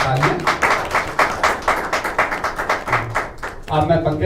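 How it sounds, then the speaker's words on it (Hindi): An audience at a panel discussion on exam preparation claps in a brisk, uneven patter of many hands, and a voice comes in near the end. "जोरदार तालियां।"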